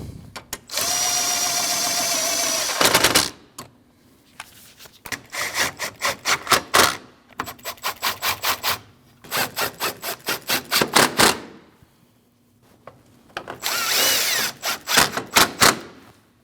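A power drill drives screws into the front lower grille of a Jeep Cherokee in several short bursts, each whirring spin ending in a brief buzz or clatter, with quiet gaps between them.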